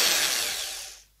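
A hammer drill, shown among equipment for a poultry farm, runs in a loud, steady burst that holds briefly and then winds down and fades out.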